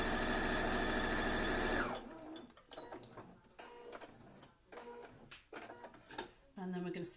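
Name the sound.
sewing machine stitching fabric for quilt block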